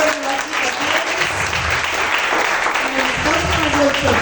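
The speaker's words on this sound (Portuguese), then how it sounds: "Aplauda o Senhor pela vida deles." A church congregation applauding during a Portuguese-language worship service, loud, continuous group clapping with voices and some singing or speech mixed underneath across the whole stretch.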